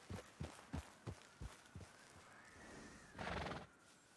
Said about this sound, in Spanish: Un caballo. Blanco.